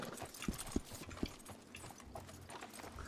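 Horse hooves clop in the RedM video game, a few slow, distinct hoof strikes at low volume followed by quieter ambient movement.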